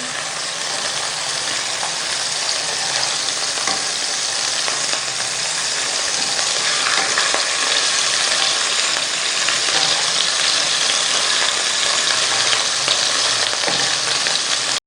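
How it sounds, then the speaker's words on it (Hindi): Prawns fry over a full flame for a prawn fried rice, giving a loud, steady, dense sizzle that runs without a break from start to finish, with no voices. "तकरीबन 30 सेकंड हम पकाएंगे इसको फुल फ्लेम पर।"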